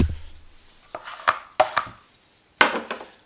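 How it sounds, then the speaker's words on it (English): A stainless steel spatula scrapes and taps against plaster in a cardboard mould, a handful of short, close scraping knocks spaced irregularly, quiet between strokes. "Now I'm going to use a spatula to help me with this."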